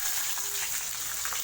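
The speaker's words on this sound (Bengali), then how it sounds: "এটা জাস্ট লাল লাল করে ভাজা হবে।" Onions fry in oil with a brief, even hiss of sizzling and light crackle, steady and close, with no voices.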